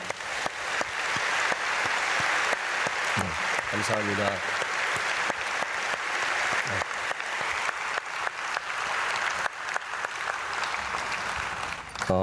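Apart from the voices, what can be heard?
congregation applause welcoming Japanese students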